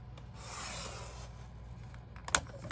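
Scissors cut through decorative star-patterned paper in a soft, steady rasping slide, quiet and close, ending with a couple of sharper snips.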